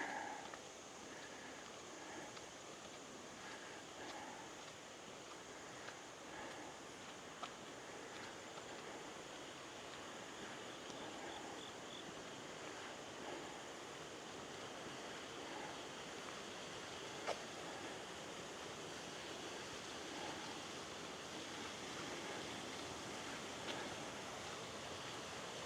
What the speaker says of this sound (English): I can hear rushing water